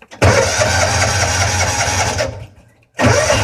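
A John Deere 4x2 Gator utility vehicle engine cranks and catches with a key, running loud and steady, cutting out briefly before roaring back up.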